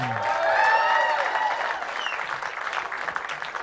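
Comedy club audience applauding for a performer at a graduation show of stand-up students, a dense wash of clapping that swells early then thins, with scattered whoops and a few voices.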